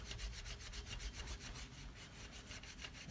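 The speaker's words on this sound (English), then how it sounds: "Take some steel wool." Steel wool scrubs rust off the wheel of a Razor MX650 electric dirt scooter in quick, regular rasping strokes, roughly four per second. The scratchy strokes come through close and fairly quiet, with no talking.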